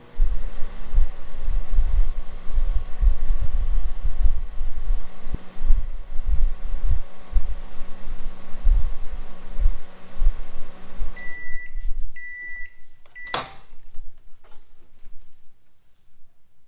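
A countertop microwave oven under repair for not heating runs with a low pulsing hum and rattle, then stops, followed by a series of beeps.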